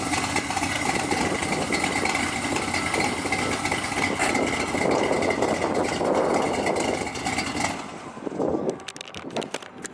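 A loud V8 car engine runs steadily near the listener, a thick broadband roar with rumbling texture that holds for about eight seconds before dropping off and thinning out at the end.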